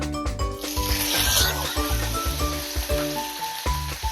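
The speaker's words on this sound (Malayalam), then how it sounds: "കടുക് പൊട്ടിക്കഴിഞ്ഞ് കടലപ്പരിപ്പ് ഉഴുന്നപ്പരിപ്പ് ഇട്ട് കൊടുക്കാം" Mustard seeds, chana dal and urad dal sizzle loudly in hot oil with dense crackling and spitting throughout, over faint tonal background music and with no talk.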